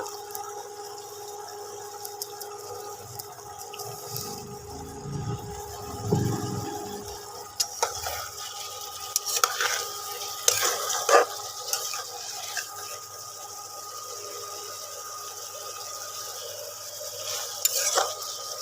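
Spoon stirring rui fish and cauliflower curry with garam masala in a pan, a soft scraping and gentle sizzle at close range with a few louder clinks and scrapes, no talking.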